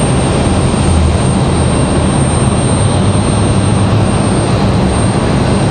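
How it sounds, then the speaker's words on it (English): A Delta Airbus A319 jet roaring down the runway on takeoff at Raleigh-Durham International, a loud, dense, steady engine blast with no voices. "So Delta A319 races down the runway."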